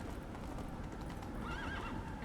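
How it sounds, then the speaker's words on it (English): A mule in The Witcher 3 whinnies in a short rising cry over a run of clopping hooves, the game sounds close and fairly quiet. "No, it's a donkey. It's rather a mule, right?"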